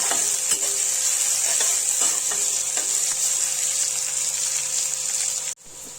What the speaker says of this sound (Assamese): পিঁয়াজখিনিও এনেকৈ ইয়াতে ধুনীয়াকৈ ভাজি ল'ম।